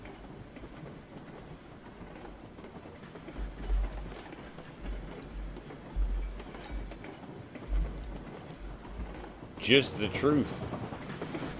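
A narrow gauge train in RailRoads Online runs through mountains with a steady low rumble and rhythmic clicking of wheels on track. Someone speaks briefly near the end.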